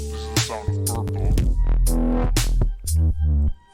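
An electronic color-sensing eye gives off its tone for the color purple, a run of bright synthetic, buzzy electronic tones with shifting pitch. Short gaps and bursts break it up, heard close and loud.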